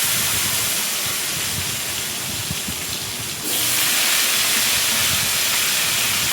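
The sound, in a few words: potatoes frying in oil in a kadai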